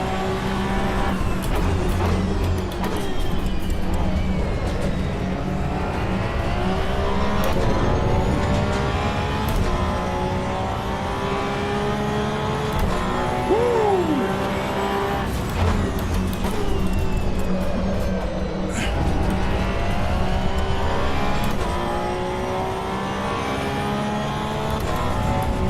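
Race car engine from the Assetto Corsa Evo racing game, loud and continuous, revving up and down through gear changes with steady tyre noise underneath, no talk.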